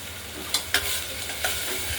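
Mung dal fries in a pan as it is stirred, a soft continuous sizzle broken by a few sharp scraping strokes of the spoon over two seconds.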